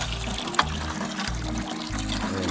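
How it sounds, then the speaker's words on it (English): Water from a hand pump pouring into a bucket of fertilizer: rhythmic, repeated low surges, about one each half second, over a steady splashing trickle, loud and close. "pumping water for the elderberries"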